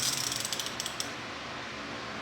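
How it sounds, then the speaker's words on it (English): Quick ratcheting clicks from a 1/2 in drive torque wrench rated 10 to 170 foot-pounds, a close, quiet run of small mechanical ticks over roughly the first second before fading into low background hiss. "Let's try to torque something with it."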